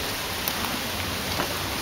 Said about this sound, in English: The fact that it's raining